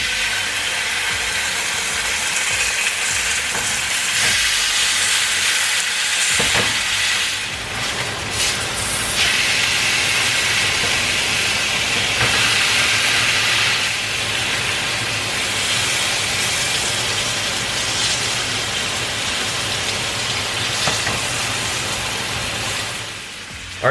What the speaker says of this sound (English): So now I'm gonna sear both sides of the steak.